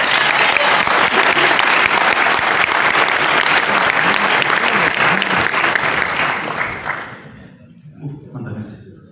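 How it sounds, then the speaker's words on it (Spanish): Loud, dense applause from a crowd at a video game expo awards ceremony, sustained for several seconds, then fading out quickly near the end as a few faint sounds remain. "Pido un fuerte aplauso."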